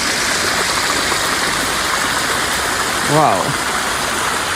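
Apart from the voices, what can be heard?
small crystal-clear river flowing in Umbria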